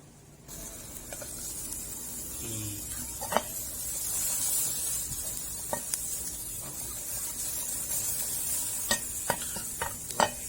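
Steady sizzling of garlic, shallots and chilies being stir-fried in a hot pan, with scattered sharp clicks and scrapes of a utensil against the metal.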